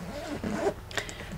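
A zipper closes a pocket on a ZUCA suitcase, a short close rasping pull with a couple of quick strokes.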